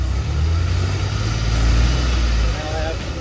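DeLorean DMC-12 with mechanical fuel injection and fresh spark plugs idling, a steady low engine rumble close by that holds even and dips slightly near the end.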